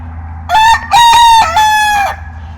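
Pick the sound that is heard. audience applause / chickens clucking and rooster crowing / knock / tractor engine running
chickens clucking and rooster crowing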